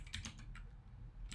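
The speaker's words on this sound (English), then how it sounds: "I type something" Quick keystrokes tap on a computer keyboard, several light clicks in a short burst, close and quiet.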